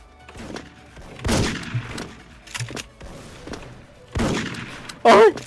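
Bursts of gunfire in the online shooter Special Force, with several separate volleys and single shots spread across the stretch, loud and close, and a brief high electronic chirp near the end.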